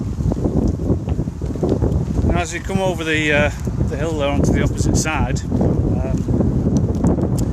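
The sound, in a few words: wind blowing into microphone outdoors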